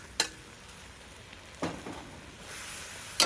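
Beef and tomatoes sizzle in an outdoor wok station, a soft, steady frying hiss broken by a few sharp stirring scrapes and clatters, fairly quiet and close.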